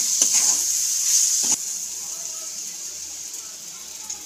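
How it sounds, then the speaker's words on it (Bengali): Salt and turmeric being stirred into a frying pan while cooking young hog plums for pickle: a steady close sizzle, with a couple of brief scraping strokes early on before it settles into even frying. "লবণ হলুদ দিয়ে একটু ভালো করে নাড়াচাড়া করে নেব।"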